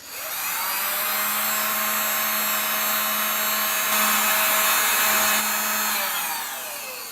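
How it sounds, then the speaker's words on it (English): A heat gun blows steadily on the CPU and small chips of a PS3 motherboard during a yellow-light-of-death reflow, giving a constant loud whirring hiss with a low motor hum that holds for several seconds and then eases off. "you're going to want to heat up these CPUs and these little chips right here for about 30 seconds each on the same level of heat"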